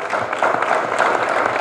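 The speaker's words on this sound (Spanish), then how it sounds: "despidamos con un aplauso aquí a Leticia Luna y a Glenn" An audience applauding speakers at a cultural centre event on Sor Juana and Octavio Paz, a brief, fairly loud burst of dense clapping from a crowd.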